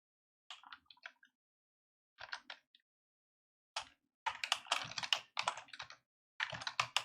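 Bursts of clicky typing on a computer keyboard while a C++ plugin is being coded, starting sparse and short, then turning into dense, rapid runs of keystrokes, close and clear with no talking.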